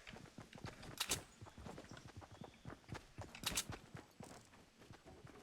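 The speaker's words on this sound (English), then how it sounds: "I heard footsteps, man" Footsteps in the Fortnite video game patter in quick, irregular succession, faint and hollow like hooves on hard ground, with a couple of sharper clattering bursts among them.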